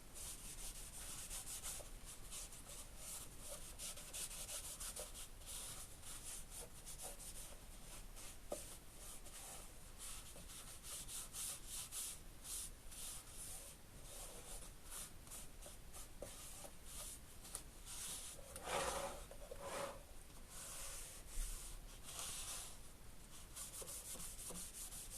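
Rag wiping excess finish off a rustic wooden bird house, a steady soft rubbing and scuffing that continues for the whole stretch at low level with no talk.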